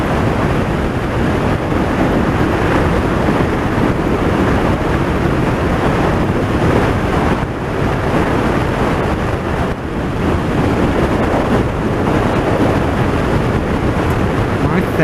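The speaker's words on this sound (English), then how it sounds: "the wind is a bit rough along here" Rough wind along a hillside buffets the microphone in a constant loud, broadband rush with gusty dips and surges, heard alone throughout.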